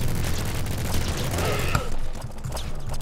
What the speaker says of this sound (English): we're just gonna pump them full of bullets and they're gonna deal with it